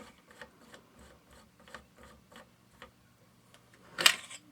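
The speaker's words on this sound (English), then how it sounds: "To loosen the takedown screw on the left side of the receiver. We'll go ahead and screw that out." A coin works the takedown screw on the left side of a Winchester 1906 pump .22 rimfire receiver, giving faint, close, irregular metallic clicks and scrapes that end in one sharper louder snap.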